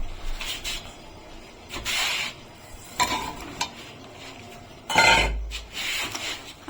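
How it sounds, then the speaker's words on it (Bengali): Potatoes stirred into frying masala for Kashmiri aloo dum make a soft sizzle under repeated bursts of utensil scraping and clanking against the pan, some heavy and close, in an uneven rhythm. "আলুটা দিয়ে এখন আমি ভালো করে কষিয়ে নেবো"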